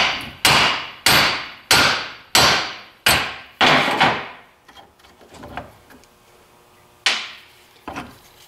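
A front axle shaft from a 1994–2001 Dodge Ram 1500 is hammered off in a vise: six loud, evenly spaced metallic blows, then quieter taps and two more strikes.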